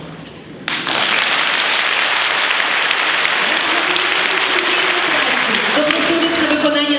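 A hall audience at an anniversary concert for a community cultural house breaks into applause after a short quiet moment. The clapping then holds as a loud, continuous roar, with voices faintly present toward the end.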